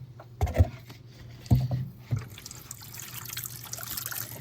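Water is poured into a pet's outdoor water dish, with a few short splashing pours near the start followed by a soft, steady trickle, close by and with no talking.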